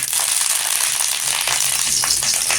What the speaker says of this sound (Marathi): इथे तेल घेतलेलं आहे दोन चमचा त्याच्यामध्ये कढीपत्ता टाकायचा